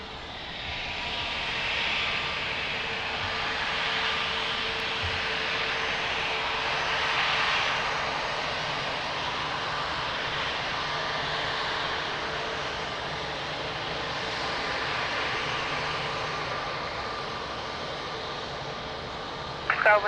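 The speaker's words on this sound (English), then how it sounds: "Nice butter landing." A jet airliner rolls out after landing at Lisbon Airport, a broad steady roar of engines and reverse thrust heard from a distance, holding evenly for about twenty seconds.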